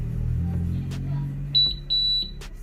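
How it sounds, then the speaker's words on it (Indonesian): A few short, high electronic beeps in quick succession, clear and close, over a low steady hum. "udah bunyi beep"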